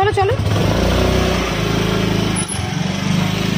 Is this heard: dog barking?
no